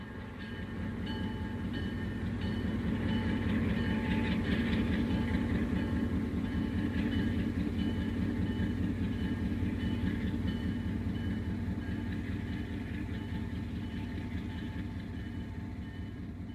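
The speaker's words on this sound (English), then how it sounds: "the road power moves back to the engine terminal for servicing" Wabash Railroad road locomotive rolling back toward the engine terminal for servicing after arriving at 4th Street Union Depot in Detroit; a steady, loud diesel rumble with rhythmic wheel and rail clatter throughout, no talk.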